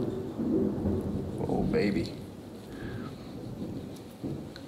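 Thunder rumbles low and heavy over steady falling rain, with a single brief remark from a voice early on and the storm carrying on alone afterward.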